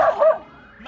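A dog gives a short, loud bark or yip close by, followed by quiet.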